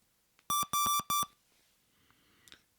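A 386SX/25 PC gives a sharp series of loud electronic beeps while rebooting, four quick tones in close succession, followed by faint shuffling and quiet room noise.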